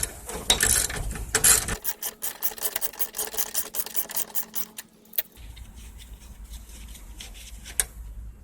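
A socket wrench ratchets on a 2007 John Deere LA110 riding mower in quick, close clicking runs. The clicking is louder at first, then continues as lighter, sparse clicks.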